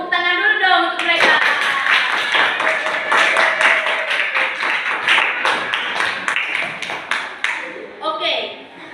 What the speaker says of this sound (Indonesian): Tepuk tangan dulu dong untuk mereka.